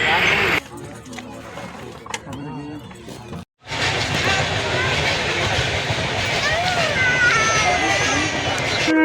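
A train nears a level crossing in Purulia district, West Bengal, by the Kansai river: busy roadside crowd babble, a brief hush, then a loud, steady rumble and roar that fills the rest of the clip.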